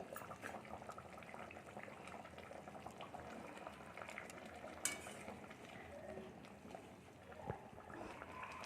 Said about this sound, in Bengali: এবার আমরা এটাকে পাঁচ মিনিট ভালো করে ফোটাবো